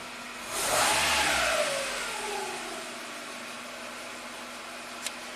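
A 2000 Toyota Camry engine with a low idle swells in a short rev near the start, then settles back into a quieter steady idle hum, followed by a single faint click.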